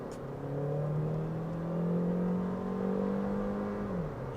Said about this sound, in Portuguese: Chegando aqui no 60 por hora e pisando tudo